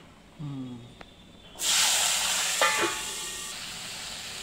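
Potatoes dropped into hot oil with cumin and asafoetida for aloo bhujia, bursting into a loud sustained sizzle after a brief clatter and short vocal sounds, then settling into steady frying with a few scrapes.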